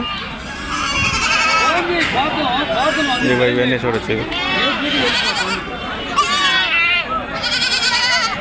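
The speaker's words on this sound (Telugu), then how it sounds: "ఇవి మేకపోతులు బాగానే ఉన్నాయి" Billy goats at a rural goat market bleat repeatedly and loudly, several animals calling close by over a crowd's chatter while someone talks nearby.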